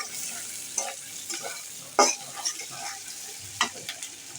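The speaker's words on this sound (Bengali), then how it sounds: "এবার আমি পেঁয়াজটাকে তেলের মধ্যে নরম করে নিব" Onions softening in hot oil in a pan for a Bengali potol and prawn curry, with a steady low sizzle and a few sharp stirring scrapes, close by with no talking.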